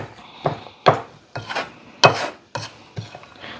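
Close scraping strokes as a spoon stirs ingredients in a pan while making cream buns, about seven distinct strokes in an uneven rhythm, with no talking.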